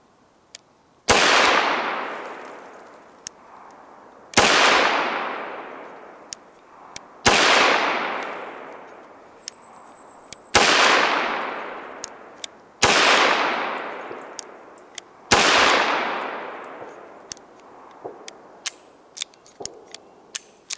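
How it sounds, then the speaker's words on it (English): Six loud, sharp revolver shots from a Ruger GP100 Match Champion at a shooting range, evenly spaced a few seconds apart, each with a long decaying ring, plus faint clicks between. "Now we're going to the Ruger Match Champion, shooting in the bottom lower right corner."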